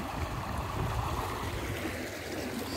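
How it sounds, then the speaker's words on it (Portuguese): Water rushing steadily through a leaking section of a dam wall under repair at Boqueirão de Piranhas, a continuous broadband roar heard alone at close range. "E essa água está passando aqui."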